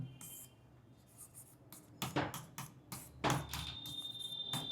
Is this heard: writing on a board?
yes